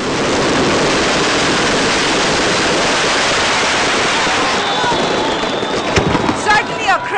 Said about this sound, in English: And a spectacular fireworks display.